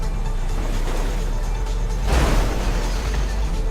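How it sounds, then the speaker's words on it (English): A Jeep's engine drones and revs while trying to push a truck in the GTA 5 video game, a loud steady rumble that swells briefly into a heavier roar midway, with no talking. "Maybe using the Jeep will be better if I try to push the truck out."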